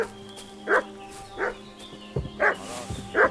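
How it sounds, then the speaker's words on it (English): A dog barks in repeated short bursts in a medieval village in the video game Kingdom Come: Deliverance 2, roughly four yaps at steady intervals over quiet ambience, fairly close and clear. "What's that dog making such a fuss about?"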